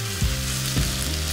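Onions sizzle steadily in hot oil in a pan while being cooked for restaurant-style paneer butter masala, a close, even frying hiss broken by a few soft scraping stirs.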